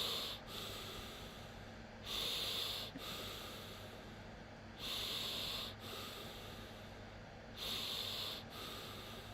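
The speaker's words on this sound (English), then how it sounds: "All right, let's start breathing." Deep rhythmic Tummo breath work, forceful sniffing inhalations alternating with steady exhalations in a repeating cycle of about three seconds, close and clear with no talking.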